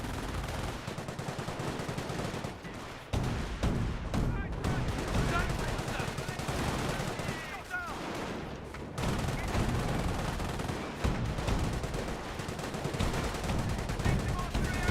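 Squads trading fire in the WWII strategy game Company of Heroes: dense, continuous rifle and machine-gun bursts crackling for the whole span, loud and layered with distant booms and faint voices mixed in.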